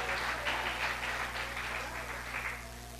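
A church congregation applauds faintly and steadily at a distance during a worship service, a soft wash of clapping over a low electrical hum with no talk.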